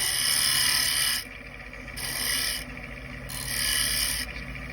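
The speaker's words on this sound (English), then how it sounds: "I'm just going to shear scrape this bottom corner." A lathe tool shear-scrapes the bottom corner of a small wooden bowl or plate turned from old flooring. Three bright, raspy scraping passes sound close, each about a second long, separated by quieter spinning hum.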